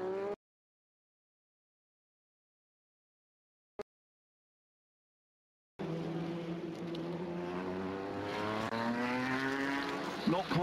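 After near silence and a single sharp click, a racing car engine at the Le Mans 24 Hours classic race roars in, revving and shifting through rising, falling pitches, loud and close.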